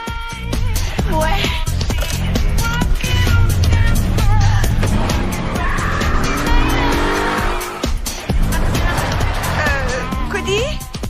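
A car in an action-film scene drives hard with loud, sustained tire squeals and skidding over a roaring engine. Voices can be heard beneath it.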